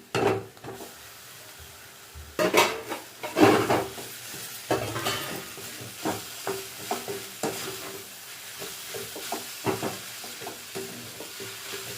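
Maggi noodles stirred into an egg frying in a pan, with a steady sizzle and repeated scraping stir strokes, a few louder clatters early on, close and without voices.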